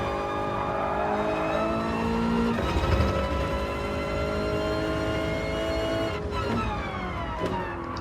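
Race cars in an FIA Gran Turismo Manufacturer Series 2018 esports race, with a Porsche among them, drone with loud, overlapping high-revving engine whines that shift pitch on gear changes and blend into a continuous roar.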